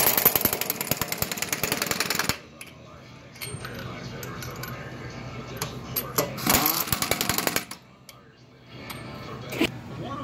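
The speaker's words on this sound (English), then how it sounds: "We are going to put the impact gun in the one position so we don't over torque the lug nuts." Pneumatic impact gun on its lowest setting snugging lug nuts onto a wheel of a 1997–2002 Ford Expedition or Lincoln Navigator in a repair shop; loud rattling bursts come and go over about ten seconds, with quieter gaps and shop clatter between.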